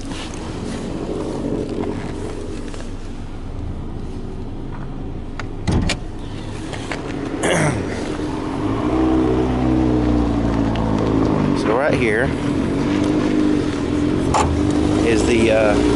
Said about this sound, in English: let's take a look under the hood and see that little engine purr.